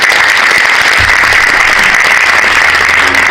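A large congregation at a 2022 Korean Easter union worship preparatory prayer meeting in Yoido Full Gospel Church gives loud, sustained applause, continuous and full throughout, with a low hum beneath.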